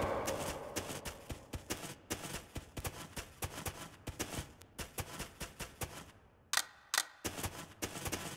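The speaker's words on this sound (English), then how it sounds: "Need to reload!" Rapid series of sharp mechanical clicks and clacks from shells being loaded into a shotgun in the game Jupiter Hell, steady rhythmic loading with a brief pause near the end, close and fairly quiet.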